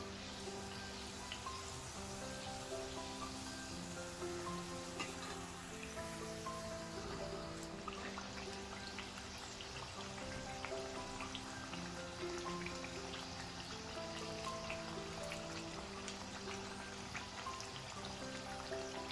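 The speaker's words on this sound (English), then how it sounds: "You need a lot of patience to fry this because you can't fry this on high flame." Pakwan dough deep-fries slowly in oil over a low flame, a dense, continuous soft crackle and bubbling like light rain, steady and close with no talk.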